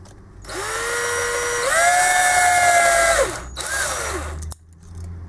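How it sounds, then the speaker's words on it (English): A power drill whines as it drives through the brush of a Bosch alternator regulator, a loud, steady motor tone rising in pitch, then dropping and pausing before a short second burst. "just get your drill in the center of the brush and drive the drill through the center of the brush"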